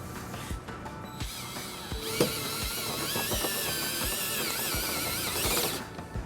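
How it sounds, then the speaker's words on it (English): A power drill drives a step bit to enlarge a hole in the steel frame of a 2010 Hyundai Elantra, giving a close, loud whine with rhythmic grinding pulses as the bit bites and releases. "Now to enlarge that hole, we're going to use a step bit."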